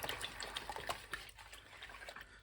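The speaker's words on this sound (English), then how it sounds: "I'm going to mix this around until we've got all of the starter pretty much dissolved into the water" Sourdough starter is stirred into water in a bowl, giving quiet irregular sloshing and liquid swirls with small clicks, close and soft with no talking.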